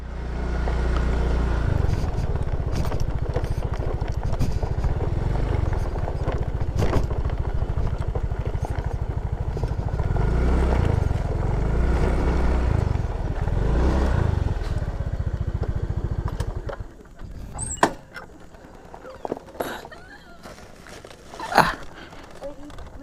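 A motorcycle engine idles and putters with a steady low rumble while the bike is parked, then cuts off abruptly, leaving scattered clatter and footsteps, with people chatting nearby throughout.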